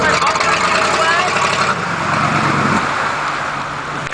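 An army truck engine runs steadily close by, a loud, constant idling rumble with a slight shift in tone partway through and no break.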